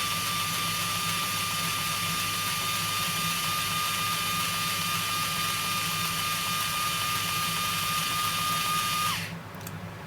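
A Ryobi 4V cordless screwdriver runs in reverse with a steady, close, high whine for about nine seconds before cutting off abruptly.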